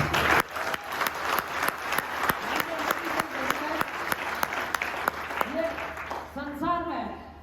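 Audience at a motivational seminar breaks into loud, sustained applause with a dense run of claps, fading near the end as a voice begins speaking.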